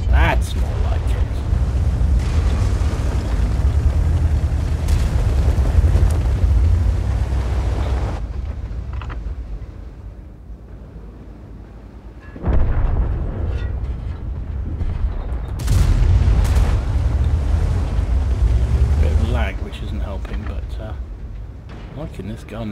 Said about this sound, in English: Liking this gun. Love the sound effects of this gun.